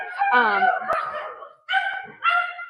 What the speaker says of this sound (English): oh, that's the doggies